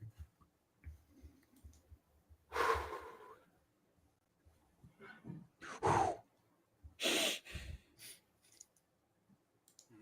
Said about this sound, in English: Lots of breathing.